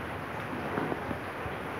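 Rain falls steadily in a rural outdoor setting, a continuous moderate hiss with occasional soft low rumbles beneath it and no voices.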